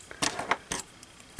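Scissors cut by hand through a small scrap of paper to free a printed word for a farmhouse Christmas card, giving a few quick crisp snips close up in a quiet room.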